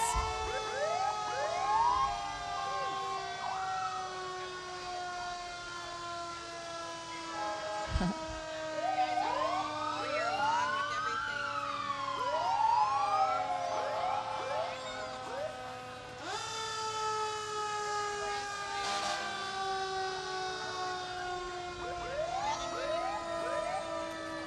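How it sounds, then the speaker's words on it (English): Sirens from a line of red fire trucks at a small-town booster days parade, rising and falling wails overlapping and sweeping up and down continuously, fairly loud, with a low horn blast partway through and no talk. "And then we have a whole array of red fire trucks."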